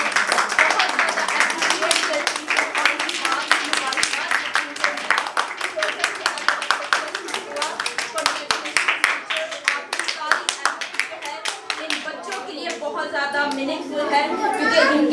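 An audience at a church Sunday school event claps steadily in a dense, lively burst that goes on for about fifteen seconds. Voices come through near the end.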